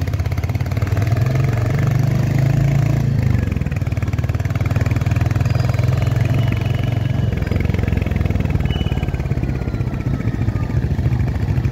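A motorcycle engine runs loud and close throughout, a steady rumbling drone with a mechanical clatter and a slight shift in pitch early on, no voices over it.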